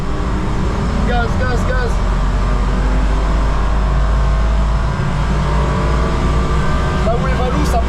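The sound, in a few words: rental BMW engine at full throttle on the Nürburgring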